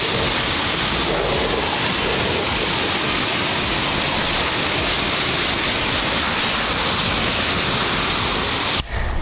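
Water from a hose or pressure rinse pours over the paintwork of a 37-year-old car, making a loud, continuous broadband rush that stays steady and then cuts off abruptly near the end, with no voices.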